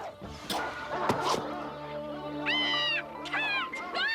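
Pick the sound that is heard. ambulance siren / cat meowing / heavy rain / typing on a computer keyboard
cat meowing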